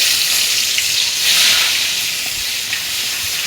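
Onions hit hot oil in a pan for a vegetable and dried fish dish, giving a steady, fairly loud sizzling hiss that swells briefly and then settles. No one speaks.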